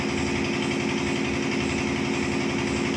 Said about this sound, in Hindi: यही है मोटरसाइकिल